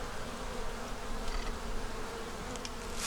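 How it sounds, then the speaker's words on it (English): A dense, steady buzz of many bees swarming close by, droning continuously without any speech. "People talk about my bees being calm."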